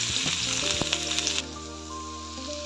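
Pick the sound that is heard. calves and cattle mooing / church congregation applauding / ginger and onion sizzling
ginger and onion sizzling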